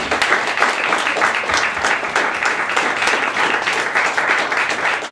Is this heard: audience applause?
yes